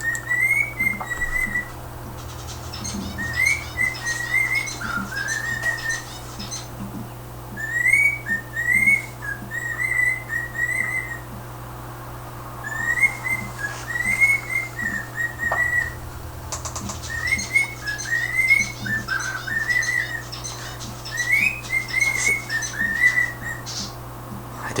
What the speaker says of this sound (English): Ah, my cockatiel Tuki is singing.